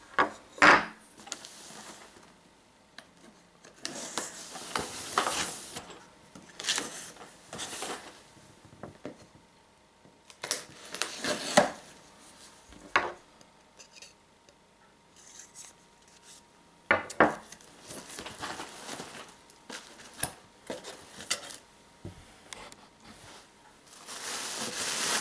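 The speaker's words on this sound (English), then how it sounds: "I'm using my homemade knife" A homemade knife slices and scrapes through the cardboard and tape of a parcel box, giving close, irregular bursts of rasping cuts and rustling with quiet pauses between.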